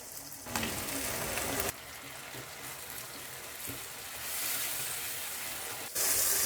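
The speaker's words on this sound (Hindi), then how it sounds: "टमाटर के सॉफ्ट होने तक हम इसको भून लेंगे।" Onions, tomatoes and ginger-garlic paste frying in a pan for anda katli, a steady close hiss and sizzle that swells and crackles louder after stirring, with a voice talking briefly.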